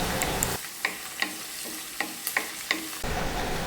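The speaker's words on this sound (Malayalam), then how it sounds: "ഇതൊക്കെ ഇനി നന്നായിട്ടൊന്ന് വാട്ടിയെടുക്കാം നമുക്ക്" Mango pickle ingredients being sautéed in a pan, with steady frying sizzle and repeated sharp scrapes and knocks of a stirring spoon against the pan, close and alone without any voices.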